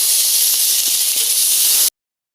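Chopped tomato hits hot oil with dried chillies and nigella seeds, setting off a loud, steady, close sizzling hiss that holds for nearly two seconds and cuts off abruptly.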